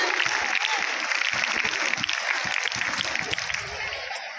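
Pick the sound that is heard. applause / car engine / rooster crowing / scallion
applause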